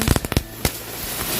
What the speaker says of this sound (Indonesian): yang selanjutnya kita nyalain 2 pak mercon gangsing sekaligus